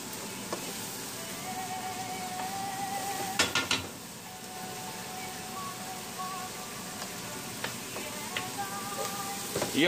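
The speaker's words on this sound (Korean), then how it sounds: "그래도 되게 잘 볶아지고 있죠." Onion, bell pepper and garlic stir-fry in chili oil in a pan with a soft, steady sizzle. Occasional clinks and scrapes of a utensil against the pan punctuate it.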